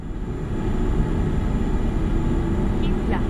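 Steady, fairly loud truck engine drone from Euro Truck Simulator 2, holding a continuous low rumble throughout with no breaks, and a couple of faint high chirps near the end.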